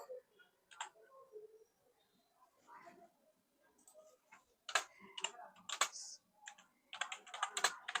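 Keyboard keys tapped while entering code, bursts of quick clicks that grow denser and louder toward the end, close by and heard alone.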